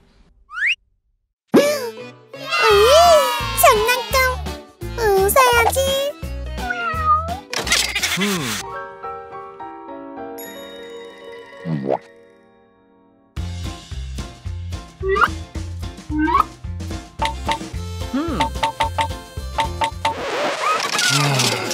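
A baby kitten newly adopted into a family meows repeatedly in short, high, bending cries. Loud music and voices sit underneath, with a pause partway through before the meowing carries on.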